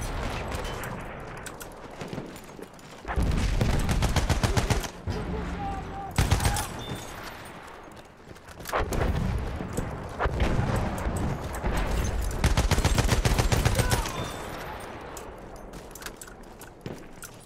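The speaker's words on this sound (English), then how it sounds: "I have to say that constant shelling in the background is pretty good." Continuous World War I battlefield din from Battlefield 1 on the La Somme map: heavy rumbling bursts of artillery shelling and gunfire rolling in waves, loud and dense from about three to fourteen seconds, with quieter ambient fighting around them.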